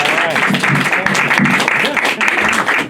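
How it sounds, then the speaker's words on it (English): Applause from a comedy audience at an underground speakeasy show, a dense, loud wash of clapping with cheers and voices mixed in throughout. "Chris Fiddler, clap it up, come on!"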